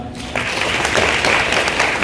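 An audience claps steadily at a senior modelling contest run by a Korean model branding association. The applause starts after a short quiet moment and carries on as a dense, even patter at close range.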